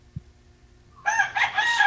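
A rooster crows once nearby, a loud strained call starting about midway and lasting to the end, after a soft thump.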